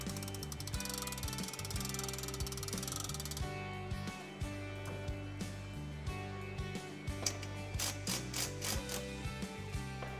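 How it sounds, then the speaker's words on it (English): Winch of a power lift kit for an Oscar 330 running in normal operation, a continuous loud mechanical ratcheting and gear whir with a steady rhythmic clicking throughout, close up and without talk. "normal operation of the winch."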